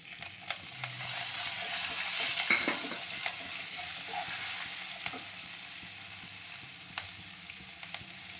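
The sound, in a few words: curry leaves and green chillies frying in a pan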